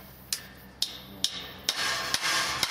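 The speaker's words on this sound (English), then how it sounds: "click it in with a hammer." A hammer taps a Strainrite top fix pigtail outrigger onto a fence post: about seven sharp metallic knocks at a steady pace, fairly quiet and close, with no talking.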